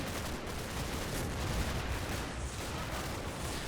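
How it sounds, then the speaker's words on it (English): Sustained small-arms and machine-gun fire pours from a hedgerow in a Normandy WWII battle in the game Combat Mission, a dense continuous rattle of overlapping shots at steady loudness with no talk. "Got a lot of gunfire coming from this hedgerow."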